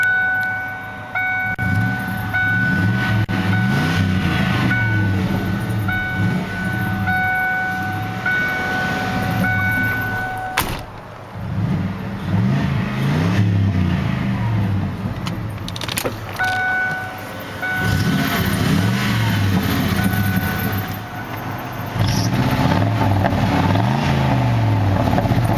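A 1993 Lincoln Town Car with 289k miles and dual exhaust starts and settles into a steady, close, loud idle, a low rumbling drone with slight swells in pitch and no talking.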